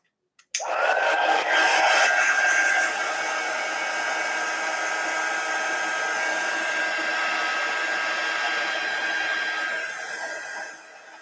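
A hair dryer switches on with a click and blows steadily at close range for about ten seconds while drying a craft hare, then starts to wind down at the end.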